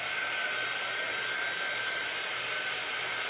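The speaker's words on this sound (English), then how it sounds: "So this little dryer is called a quick dry tool." Small handheld quick-dry heat tool blowing hot air over a tote bag, a steady broadband whoosh with a thin high whine, close and loud, continuous with no talking.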